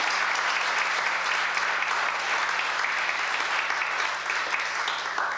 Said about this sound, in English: Let's give our Queen, Princess, and all our contestants a round of applause